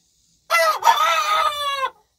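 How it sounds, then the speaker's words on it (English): A single rooster crows once, close and loud, a drawn-out cock-a-doodle-doo with a brief break early on, then silence. "That is way too many roosters."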